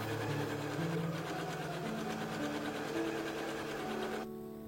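A sewing machine runs steadily while hemming a dress, a continuous close mechanical whir with slight speed shifts, stopping abruptly near the end.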